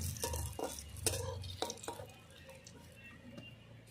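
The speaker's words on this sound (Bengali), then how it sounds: "বেগুন সব এক এক করে লাল করে নিয়েছি, সব এবার তুলে নেব সব" Fried eggplant pieces lifted from a pan, several sharp clinks and scrapes of a utensil against metal in the first two seconds, then a quiet faint sizzle.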